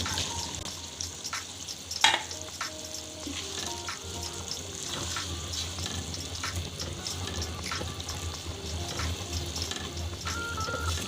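Green beans (sem ki phali) sizzle and fry steadily in a pan with masala and beef, a continuous close crackle with stirring scrapes and one sharp clatter early on.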